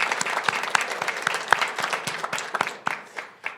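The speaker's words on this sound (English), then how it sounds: "you definitely deserve a round of applause" An audience applauds at a public planning talk, a dense wash of many hands clapping steadily with a few sharper claps standing out, fairly close and with no talk over it.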